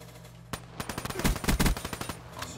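Rapid gunfire from an SMG in the shooter Road to Dark Matter fires in a dense burst of loud, close shots, a steady stream of punchy cracks over about two seconds following a brief single shot.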